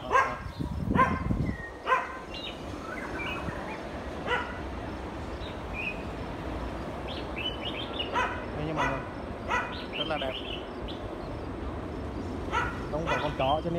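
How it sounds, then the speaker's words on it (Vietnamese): A fierce dog barks repeatedly at an old house set in a large vegetable garden in Saigon, loud at first and then in scattered bursts, with people talking throughout. "con chó nó dữ lắm"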